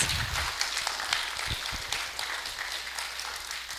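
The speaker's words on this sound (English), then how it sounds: "Please big applause for our guests." Warm applause from a gathering welcoming guests from Korea, a dense, continuous patter of clapping hands that carries on for several seconds.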